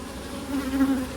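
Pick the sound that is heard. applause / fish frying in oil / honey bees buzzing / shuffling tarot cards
honey bees buzzing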